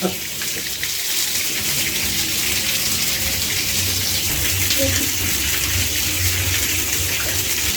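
Water gushes steadily while muddy sludge is flushed out of home central-heating radiator panels, a loud continuous rushing flow from start to end.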